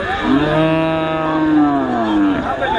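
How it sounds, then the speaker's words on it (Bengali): A cow gives a single loud, drawn-out moo lasting nearly three seconds at the Hazratpur cattle market, close by with faint background noise. "আমরা চলে আসছি হজরতপুর গরুর হাটে"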